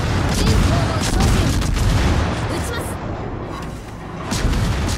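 Warship guns boom in a World of Warships clan battle, a steady barrage of heavy shots and rumbling blasts, loud and continuous, with players talking over it.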